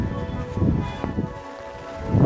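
Steady heavy monsoon rain hisses throughout on the Sinhagad Fort trek, a dense broadband wash with a brief louder gust near the end.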